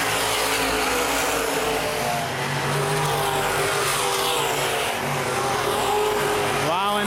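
Open-wheel modified race cars roar around Baer Field Speedway, a continuous layered engine drone from a pack of cars at middle distance, with a rising rev near the end and an announcer talking over it.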